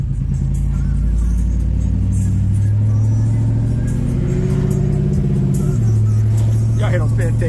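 An ice hauler car with a tune upgrade accelerates hard onto the highway, its engine a loud, close, droning roar that climbs in pitch, drops at a gear shift, and climbs again.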